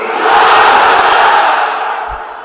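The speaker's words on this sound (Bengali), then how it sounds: "আওয়াজ তুলে তাকবীর পড়েন, লিল্লাহে তাকবীর" A large crowd at a religious sermon gathering loudly chants the takbir, "Allahu Akbar," in unison. The roar of many voices is sustained and swelling, then fades slightly at the end.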